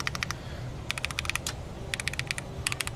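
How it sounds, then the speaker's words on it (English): Keys on a mechanical keyboard with wob keys clack in quick bursts of several presses separated by short pauses, crisp and close over a soft background hum. "That is one of the best keyboard sounds."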